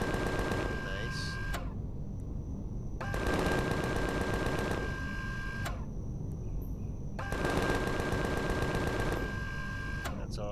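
Gunfire from a base and player weapons in the sci-fi survival game Empyrion - Galactic Survival, Alpha 8.5, coming as sustained rapid automatic bursts in three long volleys separated by short gaps, loud against a steady backdrop.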